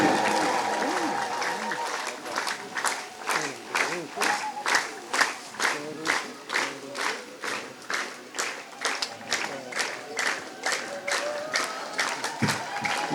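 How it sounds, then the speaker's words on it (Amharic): An audience at a church award ceremony claps in a sustained round of applause, with a steady rhythmic beat from many hands that carries on evenly for several seconds. "በእጃቸው ምን እያላቸው አጨብጭቡላቸው።"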